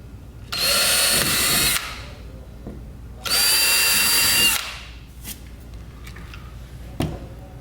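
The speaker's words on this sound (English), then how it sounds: "you want to use a 1/8 inch drill bit." Two loud bursts of a power drill with a 1/8 inch bit whirring, each lasting over a second, followed by a few quieter clicks and knocks, while installing a kayak bungee deck rigging kit.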